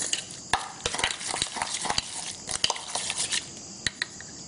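Green mango gojju being stirred by hand in a pot with tempering and salt, a busy run of soft scrapes and clinks in uneven rhythm, close and fairly quiet.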